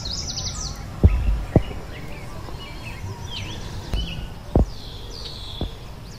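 Scattered calls and chirps of kuling birds ring out in open air, with a few sharp knocks and a low background hum.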